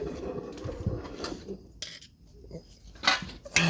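Metal car oil pan handled during removal from a Chevrolet Traverse, Acadia or Cadillac 3.6 engine, giving several faint scattered clanks and scrapes of sheet metal with quiet gaps between them.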